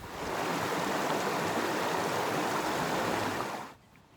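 River water flows at a campsite with a steady close rushing sound, ending abruptly near the end.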